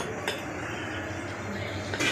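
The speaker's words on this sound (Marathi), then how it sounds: "आपण परत कढई चुलीवरती ठेवू." A metal kadhai clinks as it is set back on a wood-fired stove, with one brief knock early on and another at the end over a low background rumble.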